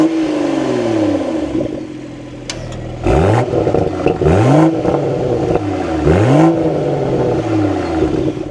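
A manual-transmission BMW Z4 from 2025 cranks and fires up, then its engine revs in three sharp blips that rise and fall, loud and close with a steady idle between.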